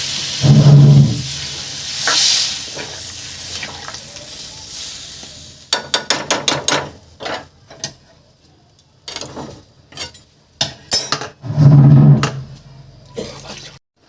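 Water poured into a simmering pot of thin shol fish curry, first a soft gushing splash, then a burst of bubbling and clicking stirs that fade to quieter sizzling, with another splash near the end.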